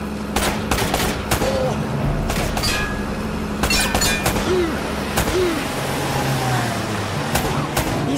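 Gunfire rings out in an ambush shootout in the video game Uncharted: Drake's Fortune: sharp, separate shots and bursts crack at irregular intervals over a rumbling background, with faint voices mixed in.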